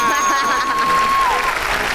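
Applause from a studio audience at a live TV show, steady clapping throughout with a sustained electronic tone gliding down over it and a voice talking faintly underneath.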